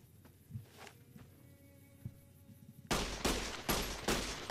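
Gunfire in Fallout: New Vegas, first a few scattered faint shots and footsteps, then a loud burst of rapid repeated shots crackling in quick succession near the end.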